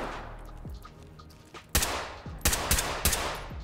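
Gunfire in the Ready or Not tactical shooter during a cartel raid: four sharp, loud shots, the first alone and three following in quick succession, over a low ambient hum with no speech.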